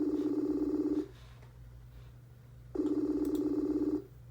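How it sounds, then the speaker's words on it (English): A voice-call ringtone sounds in two clear bursts of about a second each, separated by a pause, played over a steady low hum with no talking. "It's ringing. Can everyone hear that?"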